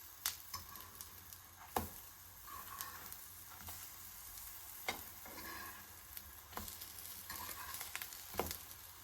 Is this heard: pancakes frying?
yes